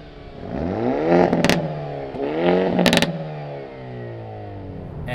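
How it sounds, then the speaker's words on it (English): A 2022 Hyundai Elantra N exhaust, heard from outside, revs up twice with rising engine tones, and sharp pops and crackles break in near the top of each rev before it settles to a steady drone. "you do get more backfires all the time in the Elantra N, so I guess we should probably take a listen from the outside"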